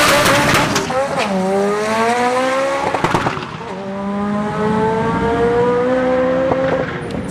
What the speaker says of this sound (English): 101 miles an hour for the B-Series Turbo Civic